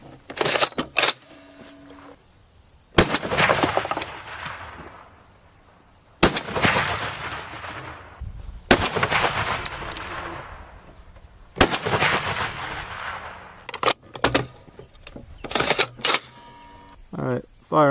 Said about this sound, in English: But yeah, the M82 A1. This is quite a beast of a rifle.